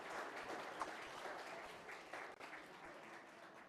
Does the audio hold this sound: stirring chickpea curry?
no